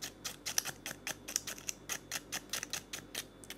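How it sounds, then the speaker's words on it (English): Scraping inside a Nepenthes gracilis "Black" pitcher during a dissection: a rapid, steady series of crisp scratchy strokes, close up and fairly quiet, with no talking. "let's just scrape everything here"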